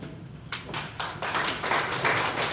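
An audience at a 2021 unification meeting begins to applaud, starting with a few scattered claps that quickly build into fuller, denser clapping.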